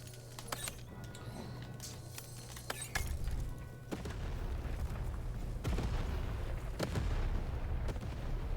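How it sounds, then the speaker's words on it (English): Cannon fire in the video game Lost in Random, with several sharp booming blasts spread across a steady, loud rumbling game backdrop, and no talk over it. "Shoot the button to fire the cannon."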